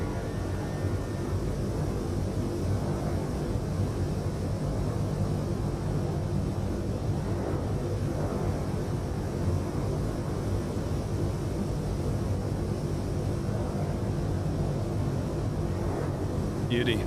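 Inside Microsoft Flight Simulator, a PMDG 737-800 fitted with an add-on sound pack gives a loud, steady broadband jet engine roar and rumble that holds evenly throughout, with a faint voice over it near the end.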